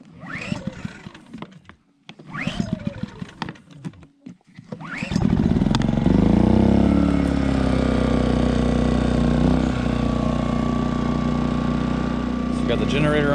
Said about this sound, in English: We're going to get this fired back up on the generator here